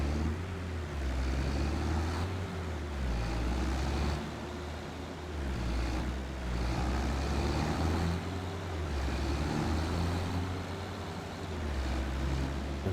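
Mercedes-Benz truck with optional roof beacons driving in Farming Simulator 25, a steady low engine rumble with gentle surges as it rolls along, continuous and fairly close, no talk.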